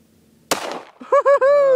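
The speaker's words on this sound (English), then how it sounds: "He shoots twice." Two sharp pops from a small toy cap gun firing twice, a loud crack followed by a shorter echoing burst, then a voice calls out briefly.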